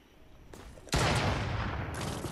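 Sniper rifle shot in the video game Fortnite: a sudden loud broadband blast that opens into a sustained roar of gunfire-like noise lasting over a second, with no speech over it.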